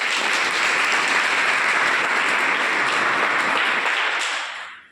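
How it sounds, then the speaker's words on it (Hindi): An audience bursts into loud, dense applause that holds steady for several seconds, then quickly dies away at the end. "सबसे पहले मिनी मैडम के लिए जोरदार ताली।"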